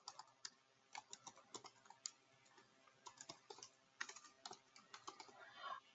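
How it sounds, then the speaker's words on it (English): Keys clatter on a computer keyboard in a quick, uneven burst of clicks, with short pauses between strokes. The typing sounds close and fairly quiet, and no one speaks. "you can type the name of the person"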